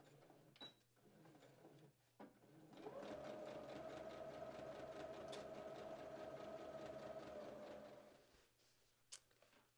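A sewing machine stitches around the armhole of a dress, running in one steady, fairly loud burst of fast, even stitching after a few quiet handling sounds, then stopping near the end.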